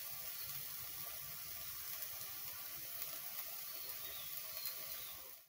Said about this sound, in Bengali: ডাল সেদ্ধ বসিয়ে দিয়েছি, ডাল টকবক করে ফুটছে